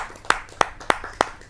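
Four sharp, evenly spaced hand claps ring out close by at a Hindi poetry gathering, a kavi sammelan, welcoming a poet to recite his ghazal, with a faint murmur of room noise between them.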